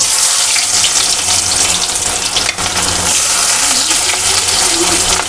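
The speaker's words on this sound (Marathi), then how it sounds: "आपलं तेल गरम झालेलं आहे आता कांदा टाकून घेऊ याच्यात" Chopped onion drops into hot oil in a home kitchen pan while cooking bhindi (okra) bhaji, giving a loud, steady, close hiss of sizzling frying that continues without pause.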